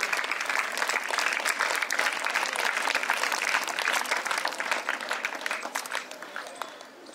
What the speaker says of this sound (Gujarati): જોરદાર તાળીઓથી આપણે અભિવાદન કરશું.